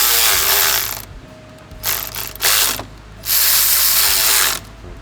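Ratchet wrench tightening two T30 bolts on a water pump support bracket of a 2013 Volkswagen Beetle, giving loud bursts of rapid pawl clicking separated by short pauses, close up with no talk.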